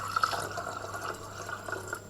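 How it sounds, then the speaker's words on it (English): Water poured from a cup into a container while filling it to measure capacity, a soft, continuous trickle and splash with a few small drips, close and fairly quiet with no talking. "so there's another cupful, pour it in."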